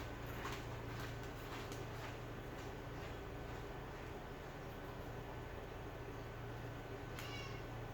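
A house cat meows in a home kitchen while garlic, ginger and red onion are prepared for adobo, with steady low cooking or appliance hum running underneath; a brief high cry stands out near the end.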